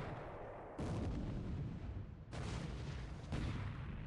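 Battleship shellfire bombardment in the World War II naval strategy game War in the Pacific: three successive rumbling salvos of heavy gunfire, each a broad booming onset that trails into a sustained roar, fairly quiet overall.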